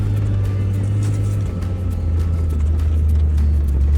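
Toyota Land Cruiser 4x4 grinding up a rough, steep, overgrown gravel hill track, its engine a steady low drone heard close from the cabin throughout, with continuous crunching and rattling from the rough surface.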